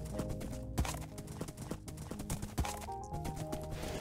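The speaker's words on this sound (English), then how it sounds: "Come on, faster, my horse." A horse gallops in Minecraft, rhythmic clip-clop hoofbeats repeating quickly and close over a game soundtrack, with a brief whinny.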